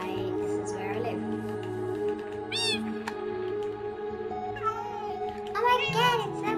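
Several Minecraft cats meow repeatedly, high and drawn-out, over steady background game music, while a person talks throughout.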